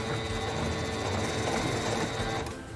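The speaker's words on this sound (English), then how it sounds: "Press and hold the reverse button to sew backwards a few stitches." A quilting sewing machine runs steadily in reverse for a few backward stitches, a close, continuous mechanical whir that softens near the end, with no talking.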